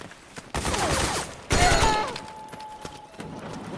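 Bursts of gunfire from the Metal Gear Solid 4 video game, two loud volleys breaking out over ambient game sound, with a lingering tone after the second burst.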